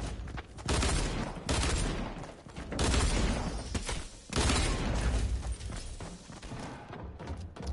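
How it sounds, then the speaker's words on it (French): Video game gunfire bursts out in heavy, rapid volleys, three or four loud surges of shots and thuds with brief lulls between them, close and dense, with no talk. "ça me tire dessus"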